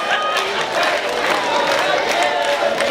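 Wrestling crowd roars steadily inside the Cape Championship Wrestling arena, a dense, continuous cheer with a voice talking over it throughout.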